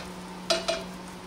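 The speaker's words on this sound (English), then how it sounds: "Sweat your onions and garlic for about 2 minutes and add a tablespoon of tomato paste" Onions, garlic and tomato paste cooking in a pan, with two quick spatula scrapes over a steady soft hum; no talking.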